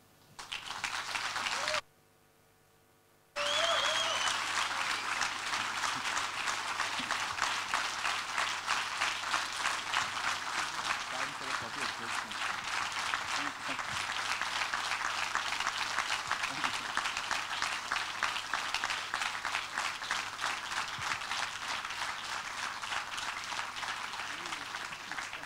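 Sustained audience applause fills a hall after a talk at the Brain Bar event, dense steady clapping running for over twenty seconds following a brief pause, with a faint voice beneath.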